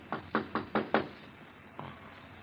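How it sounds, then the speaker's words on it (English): A radio-drama sound effect of someone knocking at a door: five quick, fairly close raps in an even rhythm, then a pause and one softer knock. "There's someone at the door."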